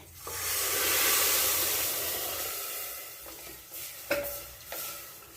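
Milk pours into a hot pot of simmering payasam, hissing and sizzling loudly at first and then settling into a softer simmer with a few clinks.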